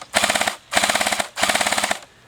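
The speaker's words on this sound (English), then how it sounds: "So it's 2 clicks all the way forward, then it fires." A Tannhauser Gate M2H .50 cal airsoft replica fires three loud, close full-auto bursts of about half a second each, rapid rattling shots with brief gaps between bursts.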